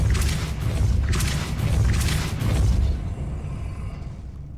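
A Depulso spell cast in Hogwarts Legacy sets off a loud rumbling magical blast with a few punchy booming pulses, then trails away into a quieter fading tail.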